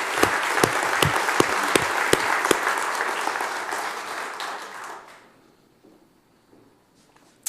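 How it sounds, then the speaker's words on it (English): Applause from an audience at a neighborhood community meeting, a steady round of clapping with a few sharper individual claps, lasting about five seconds before fading out to near silence. "So how about a round of applause for all those efforts?"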